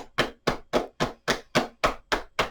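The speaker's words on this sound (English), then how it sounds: "let's do some taps on the sides of the knees" Hands tapping the sides of the knees during a tai chi warm-up, a steady series of nine firm, evenly spaced slaps heard close by at about three per second.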